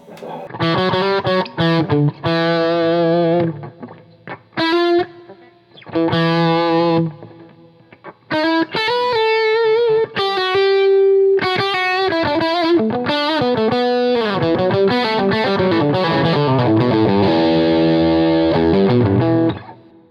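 A distorted electric guitar on the treble pickup plays a bright melody in phrases separated by short gaps, with some sustained bent notes and faster runs near the end.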